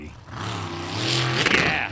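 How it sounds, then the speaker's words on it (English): Supercharged 427 cubic inch Ford engine in a sprint boat at a race, roaring loud and steady with rising revs and a rough, gnarly edge, close by and sustained without speech. "And a supercharged 427 cubic inch Ford. It just sounds gnarly."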